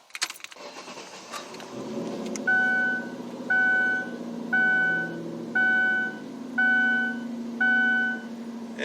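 A 2007 Ford Taurus SE cranks and catches on a cold start, then settles into a fast, steady idle while a repeating warning chime pulses about once a second over the engine hum.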